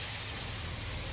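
Steady rain falling outdoors, a dense continuous hiss of drops with no talk over it.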